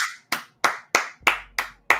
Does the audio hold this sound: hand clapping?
yes